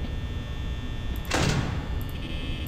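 A mechanical door in Five Nights at Freddy's slides open with a short whooshing rush over a steady electrical hum, followed by faint high beeps.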